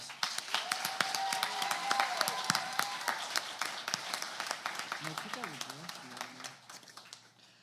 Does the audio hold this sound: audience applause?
yes